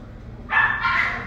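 A single dog barks once, a short loud yelp-like bark standing alone over quiet room background, with no talking.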